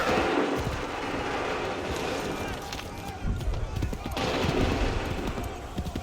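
Musket fire in an Assassin's Creed 3 battle, a dense rolling volley of shots over a steady battlefield roar, loud bursts near the middle and late, with shouted orders and voices throughout.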